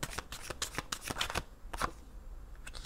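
Tarot playing cards handled and laid down during a reading, a quick series of crisp close flicks and slaps followed by a pause, then a few more soft taps.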